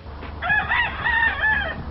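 A backyard cockerel in a Gateshead garden crowing loudly and close, one drawn-out call rising and falling in a few strained pulses.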